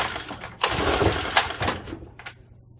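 A Generac generator engine is cranked without the choke, giving a few rough, uneven bursts of mechanical noise close by that fade without the engine catching.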